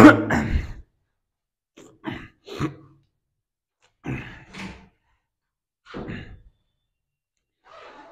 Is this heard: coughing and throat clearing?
yes